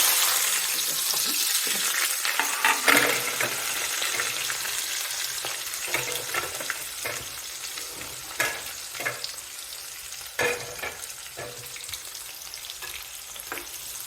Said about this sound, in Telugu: ఆనియన్స్ వేగాలండి